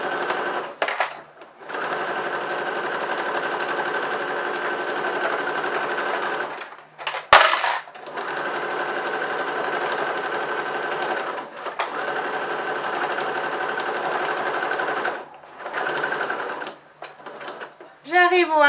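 Domestic sewing machine stitching a fabric napkin holder, a steady close whirring hum in long runs broken by short pauses to lift the presser foot and turn the fabric, while someone talks intermittently.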